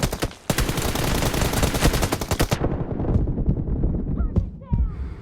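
Rapid automatic gunfire in a team deathmatch mobile shooter game, a dense loud burst of rounds for about two seconds, then scattered single shots and sharp game effects trailing off.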